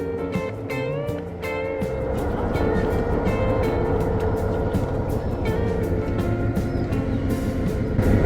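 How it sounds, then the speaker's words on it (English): A train rumbles and rattles close by on the Nine Arches Bridge in Ella, Sri Lanka, with a squeal of metal at the start and a steady clattering roll. "And this train is going to start very soon."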